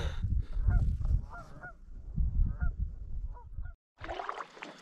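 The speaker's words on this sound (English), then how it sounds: "they're nesting now, the Canadian geese" Canada geese honk repeatedly around a nesting area near a canoe on the water, a run of loud, fairly close calls with brief pauses, followed by a short silence and a burst of rougher noise.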